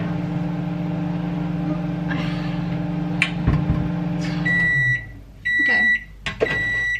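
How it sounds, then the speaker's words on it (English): A microwave oven on high heats chocolate with a steady low hum, then winds down and gives a few loud electronic beeps near the end. "Whilst that's in the microwave"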